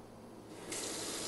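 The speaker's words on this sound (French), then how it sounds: "Le robinet qui s'ouvre tout seul." A kitchen water tap opening on its own, a quiet hiss that suddenly swells into a louder, steady rush of running water.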